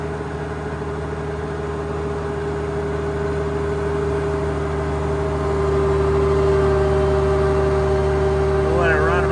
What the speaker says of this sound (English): We'll run the dyno down so it loads it a little bit.